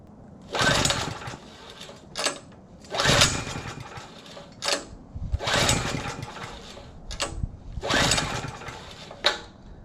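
A gas Power Stroke generator's small engine chugs in about five rough, sputtering bursts, each a second or so long with short pauses between, loud and close, never catching before it stops.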